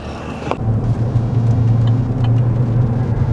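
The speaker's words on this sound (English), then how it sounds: "So you can definitely hear a little bit more exhaust in the cab" Low, steady exhaust drone from a Chevy Silverado with a FlowMaster 40 Series exhaust, heard from inside the cab while cruising at about 30 mph, a constant deep rumble with no talking.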